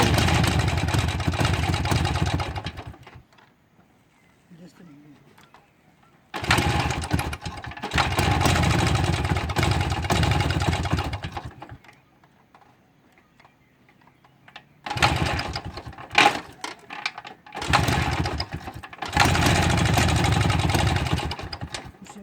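A Jawa 250 motorcycle's engine runs in rough, buzzing bursts of a few seconds each, with short quiet gaps between revs, close by.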